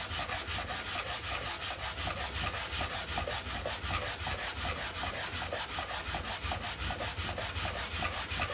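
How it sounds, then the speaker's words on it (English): A sanding block rubbed back and forth along a wooden bass guitar neck, giving steady, close, rhythmic strokes of scratchy friction that run the whole time, with no talking. "You put this on here and sand away."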